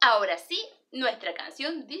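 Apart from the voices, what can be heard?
No everyday noises stand out.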